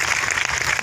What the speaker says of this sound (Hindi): एक बार उनके लिए ताली बजाइए।